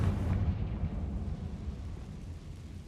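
A Confringo fire-blast spell from the game Hogwarts Legacy booms out as a dense, low rumbling explosion that opens loud and rolls on steadily for a few seconds with no talk over it.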